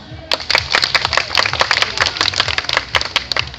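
A small audience claps at a live concert at Tiehua Village, a burst of scattered, uneven hand claps close by, rising after a brief pause and continuing steadily.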